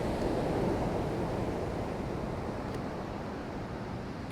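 Waves roll in on a rocky Icelandic coast, a broad, continuous surf roar that swells and then slowly eases, steady and fairly loud, with no talking.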